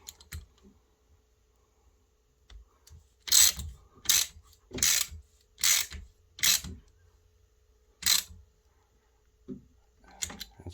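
A motorcycle chain adjuster bolt on a Standard 125R is tightened with a ratchet, a series of sharp clicking bursts in uneven rhythm, close and fairly loud against a quiet background.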